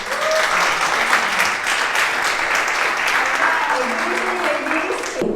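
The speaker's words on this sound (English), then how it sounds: "let's make a warm welcome and applause to Lilian." A room full of people claps steadily in warm applause welcoming a speaker at a meeting, continuous and fairly loud throughout, with some voices mixed in beneath the clapping.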